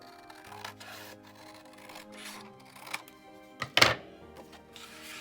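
Paper is trimmed for a garden market journal, giving soft cutting and rubbing sounds with a sharper thunk near the end, close and fairly quiet, with no talking.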